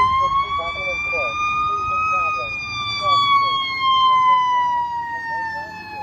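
Little Canada Fire Engine 220 sounds its siren while responding to a call, a loud close wail that slowly rises and falls over several seconds, with the rumble of the moving truck and some overlapping speech beneath it.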